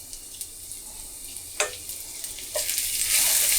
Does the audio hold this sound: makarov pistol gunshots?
no